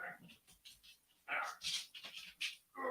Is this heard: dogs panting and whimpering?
yes